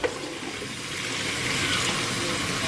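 Potatoes rinsed under a running kitchen tap, a steady close rush of water splashing without a break.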